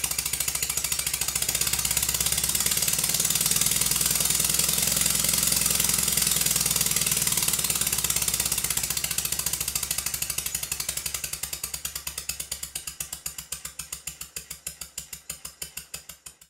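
A Stuart Sirius model steam engine chugs in a rapid mechanical rhythm as air pressure is raised, its beats growing faster and more distinct as it speeds up, with a steady hum underneath.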